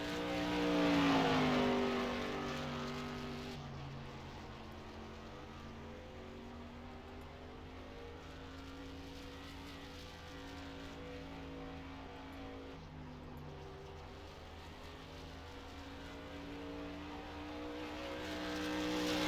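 A modified race car in a sim racing game comes around to start a hot lap, its engine droning steadily at high revs, swelling at the start and end as it accelerates, with no talking.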